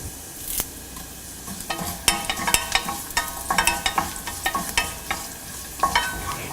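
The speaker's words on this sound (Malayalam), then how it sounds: "ഉള്ളി ഒരു ലൈറ്റ് ബ്രൗൺ ആവുമ്പോൾ കറിവേപ്പില ഇട്ട് ഇളക്കുക" Shallots and curry leaves sautéing in a pan for pineapple pulissery, a constant sizzle broken by rapid irregular spatula scrapes and taps as they are stirred, no voices.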